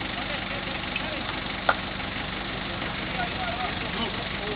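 A car engine idles steadily on a rough dirt trail, a constant mid-range drone with one sharp knock partway through, while people talk nearby.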